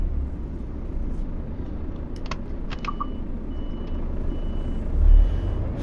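In Euro Truck Simulator 2, a truck's reversing alarm gives a few short, clear beeps over a steady low engine rumble, with no talking.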